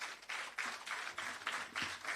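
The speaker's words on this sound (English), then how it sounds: "Again, yes, clap yourselves, please." An audience clapping at the ROOFS shelter recovery handing-over ceremony, a brief burst of crowd applause that comes in uneven surges, several pulses of dense clapping over about two seconds.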